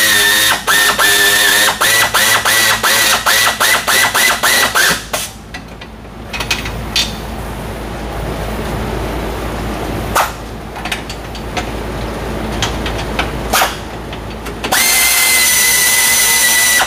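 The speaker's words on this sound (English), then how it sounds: "there's lock nuts on there. So it's my electric ratchet." An electric ratchet spins off lock nuts while replacing rear control arms: a few seconds of loud, rhythmic whirring bursts, then quieter clicking and shop noise, before the ratchet's whine returns near the end.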